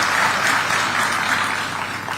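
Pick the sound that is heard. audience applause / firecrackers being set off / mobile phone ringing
audience applause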